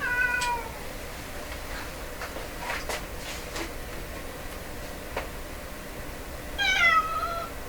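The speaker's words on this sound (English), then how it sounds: "The poor cat." A cat meows at a door, giving two plaintive cries, one at the start and one near the end, with quiet ticking and faint household noise between them.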